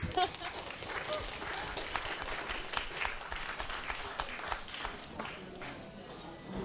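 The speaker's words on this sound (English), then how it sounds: "A round of applause." An audience claps together in sustained applause at moderate volume, keeping an even pace for several seconds.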